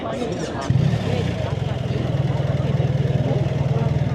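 A BMW R1300 GS Adventure fitted with a short Vasco exhaust settles into a steady, low, pulsing idle that runs continuously under people talking.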